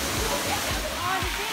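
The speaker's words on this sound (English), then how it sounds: "this is the first of two waterfalls we're going to see today. And luckily the monsoon season just finished, so we can actually see water flowing here" A waterfall in Goa, running after the monsoon season, gives a steady broadband rush of falling water, loud and continuous with no breaks. Low, indistinct voices sit under the roar.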